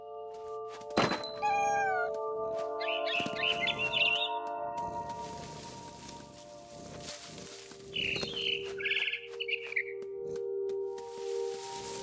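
A cat in the video game What Remains of Edith Finch meows and yowls several times, with bird chirps and calls mixed in over steady game music and occasional soft thumps.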